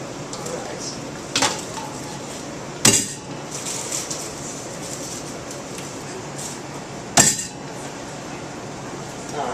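Garlic cloves cracked during raw marinara, pesto and Alfredo preparation, producing three or four sharp, close knocks spaced seconds apart over a steady low kitchen background.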